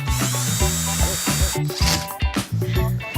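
A power drill drives screws into a wooden board for a shelf bracket, a loud, continuous motor whine with rising and falling pitch as each screw bites and seats, close by.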